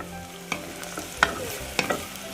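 Shallots, curry leaves and garlic frying in hot oil, a low crackling sizzle punctuated by three or four distinct clinks of a spoon stirring against the pan.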